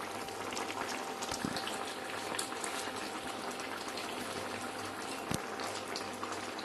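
A pot of egg curry boils steadily, a continuous soft bubbling hiss with a couple of brief knocks, close and even.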